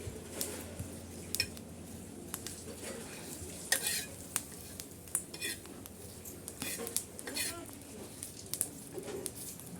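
Green chillies and garlic roasting on a griddle over a wood-fired stove make a faint, soft sizzle, punctuated by light metallic clinks and taps of a utensil against the pan at irregular intervals.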